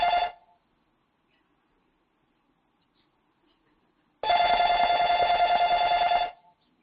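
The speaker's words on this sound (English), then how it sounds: "I should have unhooked the phone. It'll only ring 3 times." A landline telephone rings twice indoors, a brief tail of one ring followed by a long loud ring about two seconds long, with quiet between them.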